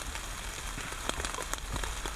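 Steady rain patters on a campsite shelter in the early morning on a trail, a dense, even hiss with scattered louder drops and no talk.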